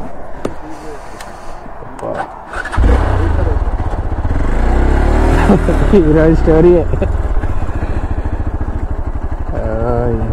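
A damaged motorcycle engine running rough and loud after a breakdown, a steady heavy drone starting a few seconds in and continuing to the end, with voices talking over it near the start and throughout.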